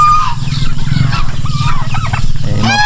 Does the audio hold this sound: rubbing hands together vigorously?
no